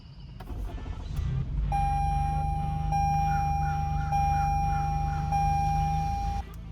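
Reversing beeps from a 2021 Toyota Highlander Platinum, a steady electronic tone pulsing at regular intervals about once every second and a half, close and clear over a low engine idle hum.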